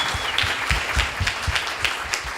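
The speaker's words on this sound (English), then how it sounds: "So round of applause for Raleigh and Drake." Close, rhythmic applause from an event audience at an award announcement, individual claps standing out in a quick, fairly even pattern over a couple of seconds.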